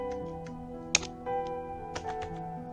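Someone types a MySQL password on a computer keyboard at a Linux Ubuntu server: a few sparse, soft key taps and one sharper click over a steady, faint electrical hum.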